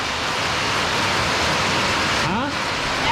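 Heavy rain pours steadily outside as a dense, continuous hiss, with a brief voice breaking through near the end.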